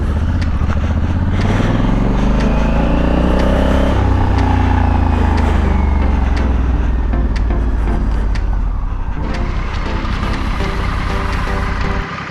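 A Honda Africa Twin motorcycle with Motoz Tractionator tyres ridden back and forth in the bush, engine rising in pitch as it accelerates close by, then easing off and revving again.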